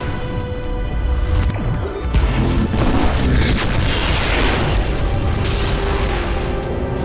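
A sustained, loud rumbling video game explosion in Titanfall 2 with crashing debris and booming low end, dense and continuous for several seconds with no voices.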